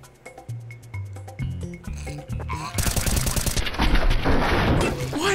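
Counter-Strike gunfire: after a stretch of music, loud rapid shots break out and keep going in dense volleys with sharp cracks over a steady roar, close and heavy until the end.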